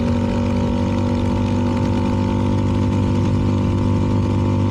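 A CFMoto 300NK motorcycle fitted with a KO exhaust carries two riders home on a cruising road, its engine droning steadily and close throughout with a constant low hum and no talk.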